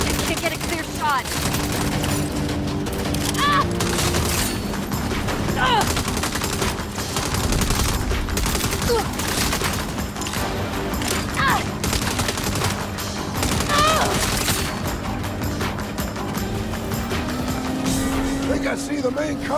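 Rapid bursts of gunfire crackle during a vehicle chase in the Saints Row reboot on PS5, with engines droning underneath and characters talking over the shooting.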